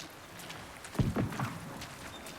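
A few soft footsteps in the survival video game HUNGER, a short cluster of muffled steps near the middle over quiet ambient background, no voices.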